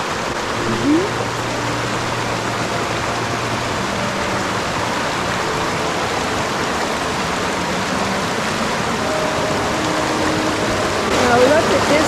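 Steady broadband rush of a stream flowing through Crazy Woman Canyon, continuous and fairly close, with faint voice fragments appearing briefly over the water.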